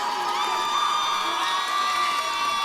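The Oneida crowd at a high school football game cheers and shouts from the stands, a loud, sustained wall of excited voices and whoops without a break.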